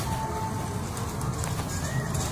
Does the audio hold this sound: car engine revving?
no